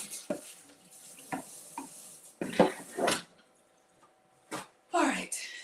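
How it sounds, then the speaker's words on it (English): A stick of butter on a hot griddle sizzles in short bursts amid clattering utensils and stirring, with quiet gaps between the louder kitchen noises. "I just put a stick of butter directly on the griddle."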